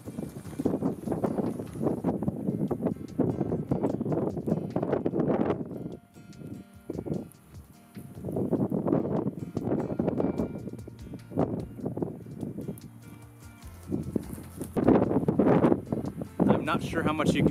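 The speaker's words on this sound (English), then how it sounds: "it's way too windy for you to catch any of my audio" Heavy desert gusts of wind buffet the microphone with deep rumbling roars that surge and ease, with a person talking partly buried underneath.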